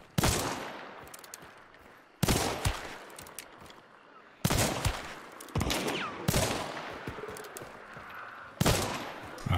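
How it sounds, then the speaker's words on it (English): Rapid rifle fire in a solo shooter video game, loud bursts of fast shots arriving in five or six separate volleys, each with a sharp onset and a decaying tail, with no talk. "I'm just shooting way too fast."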